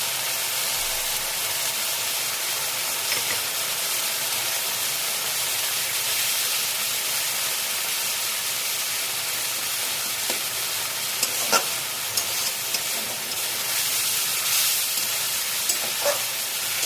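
Onion paste sizzles steadily in a hot pan with prawns and mustard paste for a Bengali chingri dish, a loud continuous frying hiss with a few brief clinks from stirring near the end.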